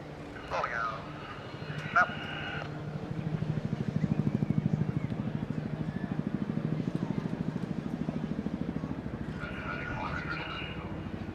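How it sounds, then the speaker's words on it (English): A mixed formation of helicopter and fixed-wing aircraft passes at the Eastbourne Airshow, its rhythmic rotor thudding and engine roar swelling and holding steady. A commentator's voice is heard near the start and end. "It's not very often you see the mixed formation of rotary and fixed wing aircraft"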